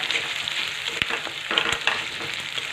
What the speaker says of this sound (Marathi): आपण हे कांदा परतून घेऊ